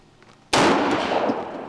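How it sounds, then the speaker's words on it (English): A single sharp, loud shot from a Colt Gold Cup 1911 pistol on a range, following a quiet moment and ringing out in a decaying echo. "just love shooting the 1911"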